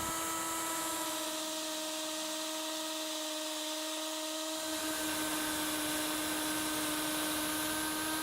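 Steady whirring drone with a constant tonal hum while a plastic headlight is sanded with 10,000 grit sandpaper, continuous and fairly quiet, with a slight shift in texture midway.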